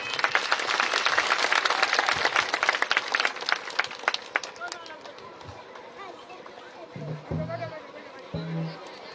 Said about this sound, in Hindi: एक बार जोरदार तालियों से स्वागत करना कीजिए।